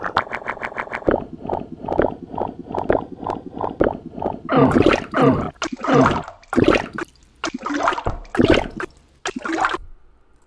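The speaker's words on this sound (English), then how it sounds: "Sometimes it's the sound of, and I wish I was kidding, water splashing." Watery splashing and squishing sounds from the video game Cruelty Squad, a run of wet sloshes and drips in irregular bursts following a steady pulsing rhythm, loud and alone with no talk.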